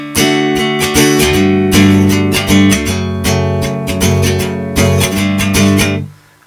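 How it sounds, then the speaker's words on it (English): Guitar plays through half the verse of a song, with steady strummed chords and a few changes, loud and close, ending in a quick fade, no talking. "so that half of the verse sounds like this."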